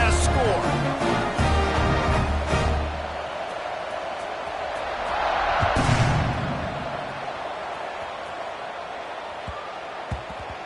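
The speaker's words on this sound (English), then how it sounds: "this crowd is buzzing after that last score" Crowd noise fills a football stadium during a college scrimmage between Syracuse and Texas Tech, a broad steady roar that swells midway before settling, with an announcer talking over it.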